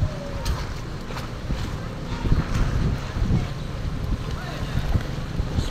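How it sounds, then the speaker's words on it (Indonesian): Moderate wind blows across a harbour dock at Trikura port in Tidore, a steady broadband rush with low buffeting gusts against the microphone and faint water movement underneath, continuous and fairly close. "cuaca di dermaga saat ini angin sedang"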